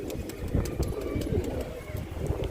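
A black-eyed pigeon coos softly in a low, continuous murmur, joined by scattered bird calls against steady background noise.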